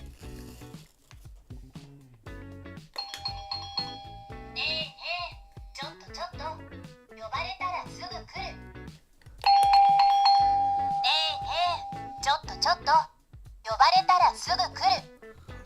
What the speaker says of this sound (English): So it's like a call bell from a restaurant.